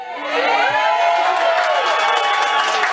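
An organized fan group in Petrópolis shouting and cheering together, a loud sustained crowd roar of many voices with rising and falling shouts.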